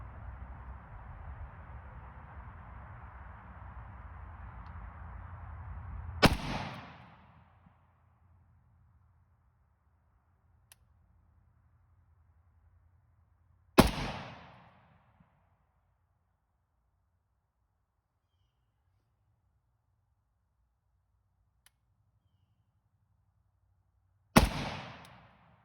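Three sharp, loud rifle shots ring out several seconds apart from an AK fitted with an LPVO scope, each ending in a quick decay into near silence, with a steady background hum before the first shot.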